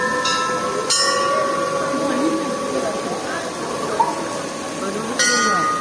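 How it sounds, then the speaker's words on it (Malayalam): A child rings a temple bell in Abu Dhabi, striking it twice several seconds apart. Each bright metallic clang rings on briefly, over a background of steady murmur and talk. "ശ്രീമോള് മണിയടിക്കുന്നുണ്ട്."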